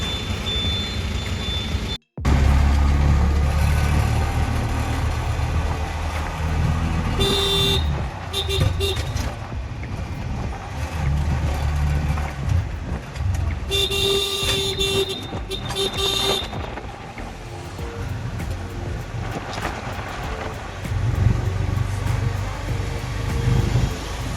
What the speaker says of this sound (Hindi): ट्रैफिक में हम फंस चुके हैं।